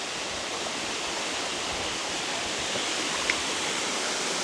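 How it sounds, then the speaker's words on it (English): A small waterfall on a countryside walk gives a steady, broadband rush of falling water, continuous and fairly close with no pauses and no voices. "It looks like we've found our waterfall."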